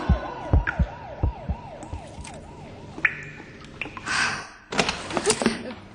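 A wailing siren rises and falls in quick regular cycles over the first half, joined by thumps and knocks, then fades out under louder clattering and bursts of noise.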